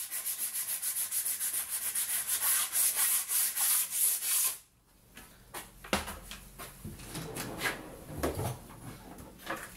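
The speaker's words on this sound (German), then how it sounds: "Wenn wir uns die Kanten da anschleifen, ja?" Repeated strokes of sandpaper rubbing by hand along the edges of a wooden crosscut sled for a table saw, a steady scratchy rhythm close up, then pausing before a few scattered scrapes and knocks.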